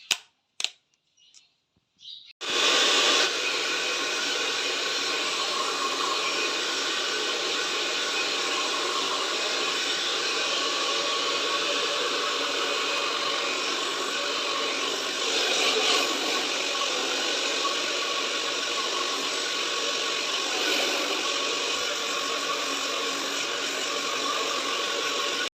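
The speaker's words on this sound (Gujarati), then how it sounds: "તો મેં કીધું કે ડ્રાયરથી હેર ડ્રાય કરી લઉં।" A handheld hair dryer switches on after a few brief knocks and runs steadily at close range, a loud continuous whoosh drying hair, with a slight surge partway through.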